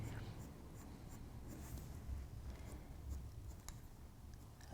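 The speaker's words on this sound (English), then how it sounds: "So you're sort of creating your feathers with the pencil marks that you're making" Pencil sketching an owl on paper, a soft continuous scratchy scraping of graphite strokes, close and quiet, with fine ticking marks and no talk.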